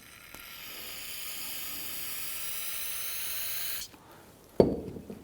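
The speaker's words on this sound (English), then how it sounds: "use a little bit of spray solvent" A long steady hiss of aerosol brake solvent sprayed into a brake caliper port on a Hyundai Elantra, close up, cuts off abruptly and is followed by a brief clatter.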